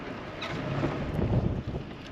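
Wind buffets and rumbles across the microphone in a continuous, gusty roar, with no voices audible.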